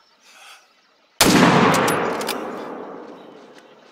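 A single loud rifle shot at a caribou in the hunting video game theHunter: Call of the Wild, Yukon Valley, ringing out with a long rolling echo after a faint murmur of talk.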